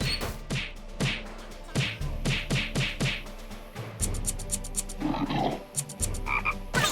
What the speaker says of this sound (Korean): 개구리야, 개굴, 개굴 하지